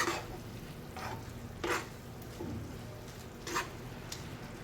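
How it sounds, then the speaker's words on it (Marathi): Chopped onion sautéing in a pan for homemade Schezwan chutney, a faint steady sizzle with occasional soft scrapes and stirring taps of a spatula, quiet and close, with no talking. "कांदा पण यात थोडासा परतून घ्यायचा आहे मस्त."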